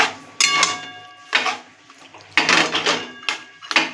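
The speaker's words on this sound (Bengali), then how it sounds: "দিয়ে এটাকে আমি ভালো করে নাড়িয়ে দেবো।" Taro leaves with turmeric are stirred in a cooking pan, a spoon knocking and scraping against the metal in four or five separate bursts with quiet gaps between them, close and clear.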